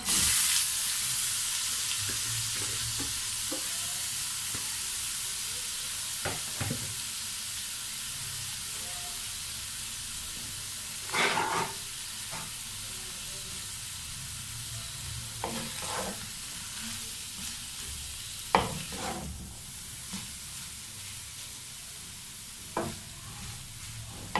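Boiled chicken pieces fry in ghee and oil over high heat in a pan, a continuous close sizzle with bursts of louder crackling and spoon-stirring scrapes, no voices.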